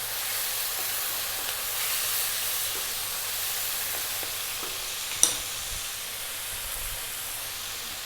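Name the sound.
light soy sauce sizzling in garlic tofu stir-fry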